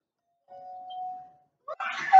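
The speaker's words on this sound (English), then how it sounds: "Every time our doorbell rang" A two-tone electronic doorbell chime sounds once, clear and close, followed by a burst of noisy rustling or commotion.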